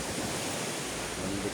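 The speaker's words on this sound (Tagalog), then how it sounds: "yan guys ang karagatan natin guys" Steady broadband wash of ocean surf at Long Beach on a morning shore, a continuous rushing roar with no clear breaks between waves, moderately loud and alone without talk.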